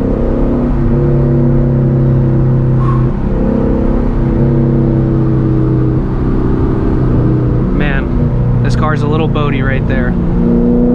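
Straight-piped 5.0L Lexus V8 car accelerating hard on a mountain road, a loud, close, rising engine drone with shifting harmonics throughout, with brief speech near the end.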